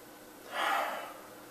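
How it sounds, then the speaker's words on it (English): A single short, close sniff at a glass of beer: a soft breathy inhale that swells and fades within about half a second, with quiet room tone before and after. "So let's give it a little sniff."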